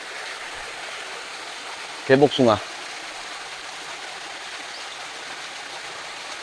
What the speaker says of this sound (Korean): 비온 뒤라 물소리 좋습니다